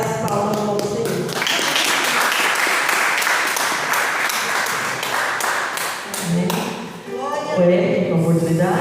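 A church congregation at a healing and deliverance service bursts into sustained applause, dense clapping filling several seconds between a speaking voice at the start and the finish.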